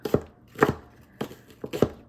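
Squash being chopped with a knife on a cutting board, a series of crisp, close thuds and cuts coming in uneven pairs and singles, with no talking.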